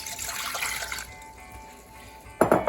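Water splashes into a pot as two cups are poured for baklava syrup, a short hissing pour followed by a quieter pause and a brief closer splash at the end.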